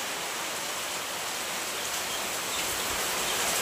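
Heavy monsoon rain pours down in the Konkan region, a dense, steady hiss that fills the whole stretch evenly and close by, with no voices over it.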